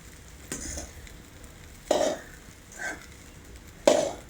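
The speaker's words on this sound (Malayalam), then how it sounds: "ഇളക്കി നല്ലതുപോലെ ഒന്ന് മിക്സ് ചെയ്ത് കൊടുക്കുക കേട്ടോ." Leftover idli is stirred and mixed in a pan in three separate bursts, each a brief scraping, sizzling swish of the spoon against the pan, fairly close, with quiet gaps between.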